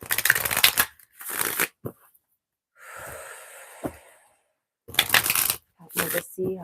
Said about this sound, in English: The deck I'm using is Moonology Messages Oracle by Yasmin Boland.